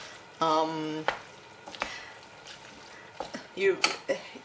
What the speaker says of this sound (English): Give it a good stir up so you can see whether it actually coated all the meat, all the mixtures together or not.